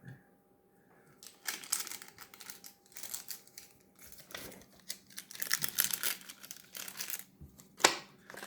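Dry paper crinkling and rustling as old tobacco seeds are brushed off a sheet of paper, in close, irregular bursts with quiet gaps between and no talking.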